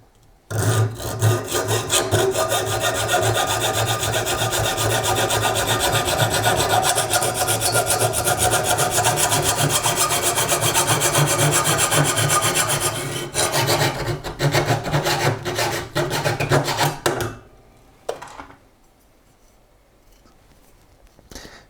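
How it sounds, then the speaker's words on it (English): A hand saw cuts through an aluminium profile with continuous rapid back-and-forth rasping strokes. The sound is close and loud for about seventeen seconds, then eases off into a few scattered scrapes before falling quiet. "I'm going to align the saw and pull. So now I have a little notch here. And then we can cut it."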